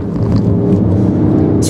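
A Mercedes ML 63 AMG is driven hard, and its engine gives a loud, close, deep rumbling roar that holds steady throughout the short stretch.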